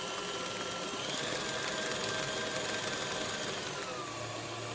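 An electric stand mixer runs steadily as egg is blended into cookie dough batter, a continuous loud motor whir and rattle with no talking.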